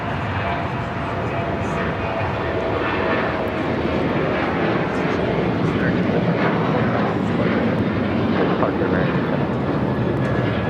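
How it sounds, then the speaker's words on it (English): An American Airlines Boeing 737-800 bound for Puerto Vallarta takes off at LAX, its jet engines roaring loudly and continuously throughout, with people talking over the noise. "This is American Airlines 764 taking off to Puerto Vallarta on a 737-800"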